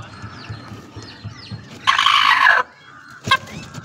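A broody Sonali hen clucks close by in soft repeated notes, then gives a loud, harsh drawn-out squawk and one more sharp cry, with no talking.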